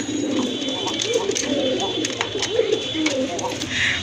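Indian Mumbai pigeons cooing at a pigeon farm, repeated low warbling coos close by, with someone talking over them throughout.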